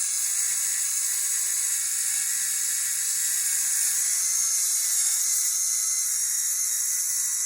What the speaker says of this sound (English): I've just got some sandpaper and a flat edge, so I'm just going to hold it.